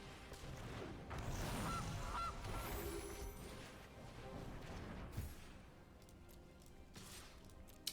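Goose honks from the digital card game Magic: The Gathering Arena sound over a dense wash of game effects, with no voices.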